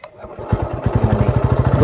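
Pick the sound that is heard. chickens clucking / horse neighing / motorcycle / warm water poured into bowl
motorcycle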